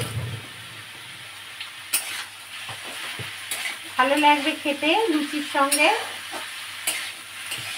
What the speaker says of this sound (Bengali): এটা সাদা আলু ভাজা করব